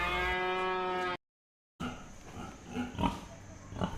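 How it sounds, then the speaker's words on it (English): A single long cow moo, loud and close with a steady harmonic drone, breaks off into a short silence before a stretch of quieter, indistinct farmyard noise. "Cow."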